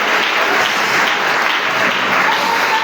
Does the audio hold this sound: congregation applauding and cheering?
yes